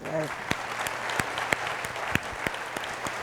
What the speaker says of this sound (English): louder round of applause for our panelists